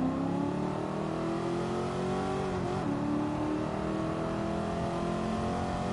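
Car engine in Gran Turismo 7 held on the throttle, a loud sustained rev whose tone holds steady, dips briefly midway, then climbs again, with no talking.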